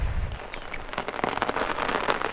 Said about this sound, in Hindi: अभी भी लगातार बारिश चल रही है।